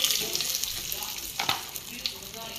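Bay leaves drop into hot oil with mustard seeds already in the pan, raising a steady close sizzle with a few brief crackling pops, and no talking over it.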